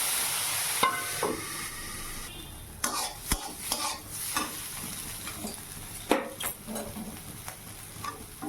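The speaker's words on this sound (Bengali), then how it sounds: "এই যে ভাজা চাপিয়ে দিলাম এদিকে উচ্ছে ভাজাটা হোক" Slices of bitter gourd fry in a hot pan in a Bengali home kitchen, giving a steady hiss with several sharp utensil clacks and scrapes against the pan.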